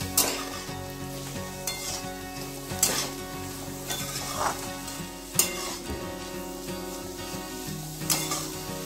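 Homemade garlic chutney with turmeric sautéing in a pan for a kurdai dish, a continuous sizzle punctuated by regular metal spatula scrapes and clanks, close by and without speech.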